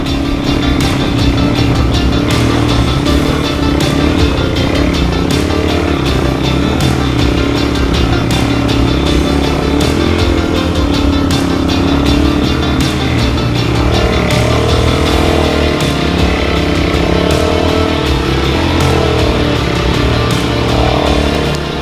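A Suzuki DRZ400 dual-sport motorcycle grinds through soft beach sand at Rainbow Beach, its engine droning loud and steady with constant throttle and small shifts in pitch, close up, with no talking over the continuous roar.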